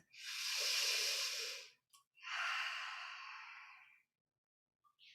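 A deep yogic breath drawn in and then a long exhale during a yoga session, two close, airy breathy swells, the second fading gradually, with a faint short puff at the end.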